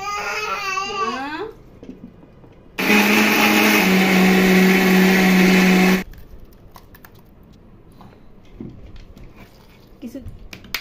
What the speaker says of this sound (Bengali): হ্যাঁ এগুলো ব্লেন্ডার করব।